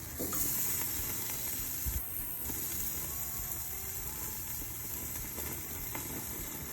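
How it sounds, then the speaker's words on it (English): Deer prime rib searing on a grill's sear burner, giving a steady low hiss and sizzle with a faint background roar, fairly quiet and continuous throughout. "We're going to give this a good sear."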